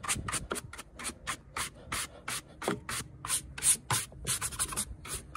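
An electric scooter being scrubbed clean, a steady close rhythm of brisk rubbing strokes with short breaks between them.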